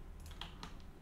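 A couple of faint, quick computer mouse right-clicks during a modded Minecraft Mekanism game session, soft and close, over a steady low background hum.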